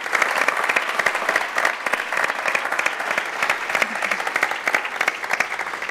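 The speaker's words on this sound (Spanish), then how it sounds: "Un aplauso, un aplauso, por favor." A seated audience at an education alliance event breaks into sustained, dense applause, many hands clapping steadily for several seconds with no talk over it.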